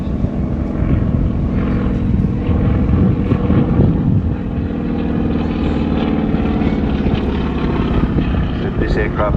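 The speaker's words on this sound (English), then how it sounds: "This aircraft part of 100 Squadron, but there are quite a few of these flying in civilian." Propeller aircraft from 100 Squadron flying at the Newcastle air show, a loud, steady engine drone that holds for the whole stretch, with people talking underneath.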